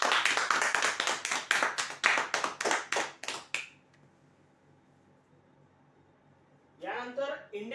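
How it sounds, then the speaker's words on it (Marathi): Loud, rapid clapping from a crowd greeting lucky draw prize winners at a weekly customer draw event, a dense burst of claps lasting several seconds before fading, followed by a brief stretch of near quiet and then a voice speaking. "कॅमेऱ्यासाठी जोरदार टाळ्या होऊ यांच्यासाठी"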